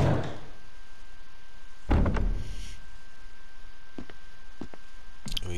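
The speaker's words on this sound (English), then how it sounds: "Head through this door." A door opens in a video game with a single soft thunk and brief swish, fairly close against a quiet ambient background, with a few faint clicks later.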